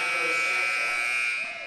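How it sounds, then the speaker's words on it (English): Buzzer in a basketball arena going off by mistake during a women's college game, a sustained loud electronic tone ringing steadily for over a second with faint crowd and commentary underneath. "as the buzzer sounded inadvertently"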